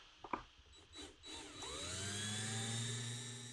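A drill whirs briefly, then spins up into a steady, rising whine that holds for a few seconds as it bores into a die-cast metal Hot Wheels Baja Bug toy car, preceded by a couple of light taps.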